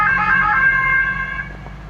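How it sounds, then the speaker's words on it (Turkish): Ambulance siren on a German road wailing close by in a strong tonal sweep, then fading quickly as it passes, with low road rumble underneath. "Az önce de böyle ambulans geçti."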